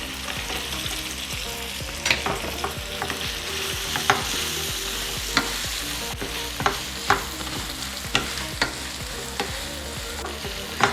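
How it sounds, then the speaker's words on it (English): Tofu stir-frying in hot oil gives a steady loud sizzle, broken by repeated sharp clacks and scrapes of a utensil against the pan, with no voices. "Now we're ready to add the tofu."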